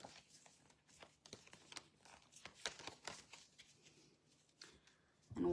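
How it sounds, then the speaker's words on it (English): Playing cards being shuffled, a run of crisp papery riffles and flicks with irregular rhythm, close and fairly quiet, ending in a louder burst. "And while we're shuffling,"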